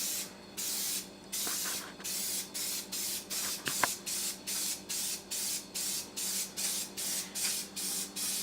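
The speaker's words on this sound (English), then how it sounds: "you see you're going to want to get the professional spray pattern." Spray paint can hissing in a long series of short, regular bursts while coating an Xbox controller to black it out, each spritz close and fairly steady, with faint clicks between the sprays.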